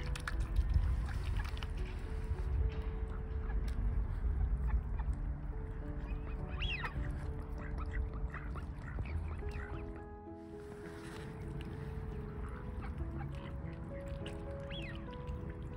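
Ducks quack and call intermittently over a low, steady background of lapping water, faint and at moderate distance, with scattered splashes and a brief lull midway.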